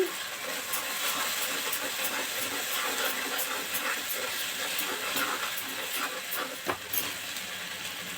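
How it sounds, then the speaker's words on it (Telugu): Soft, even hiss and bubbling of paneer gravy frying on low flame, a continuous steamy simmer with occasional faint clicks and no speech. "ఇలా లో ఫ్లేమ్లో మంచిగా ఫ్రై చేసుకోవాలండి మాడకుండా చూసుకోవాలి"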